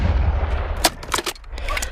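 Rifle shots ring out in a shooting video game, several sharp cracks in quick succession over about a second, loud against a low background rumble.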